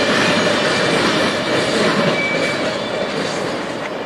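A freight train running from Logistics Park, Atlanta, to Los Angeles rolls past, a loud, steady rumble with rail clatter and faint wheel squeal throughout, no talking.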